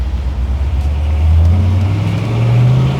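A 1961 Chevy Impala with a 409 engine accelerates on takeoff, its deep, loud, close-up drone climbing steadily in pitch through the run, with no talking.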